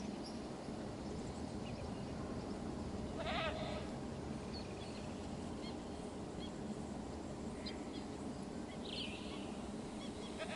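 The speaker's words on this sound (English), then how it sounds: "the goat's looking for water" Goat bleats in the video game Jurassic World Evolution 2, one short bleat standing out midway over a steady rumbling ambient game soundscape with faint bird-like chirps.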